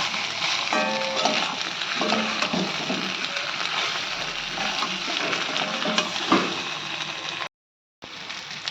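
Chicken pieces being stirred and fried in oil for coconut chicken, a constant close sizzle broken by repeated spatula scrapes and clatters, with a short silent gap near the end.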